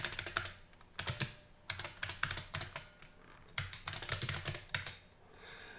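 Typing on a circa-1983 IBM PC keyboard while entering PC-DOS program lines: bursts of close, crisp clicking keystrokes in irregular runs with brief pauses, heard alone without talk.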